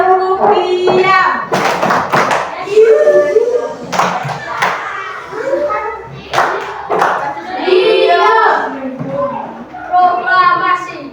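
Children in a sixth-grade primary school classroom in Indonesia perform the tepuk diam routine, with sharp rhythmic hand claps and thumps mixed among loud, close chanting voices.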